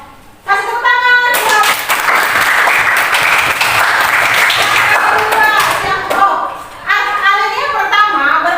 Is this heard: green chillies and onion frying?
no